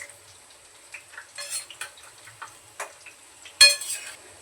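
Onion bhaji fry in hot oil while being loosened and flipped, with soft intermittent scrapes and clinks of a utensil against the pan and one sharper clink near the end.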